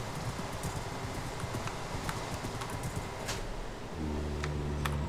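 Horse hooves walking in the Minecraft video game, a steady run of soft clip-clop steps over a constant background hum, with a low tonal layer joining near the end.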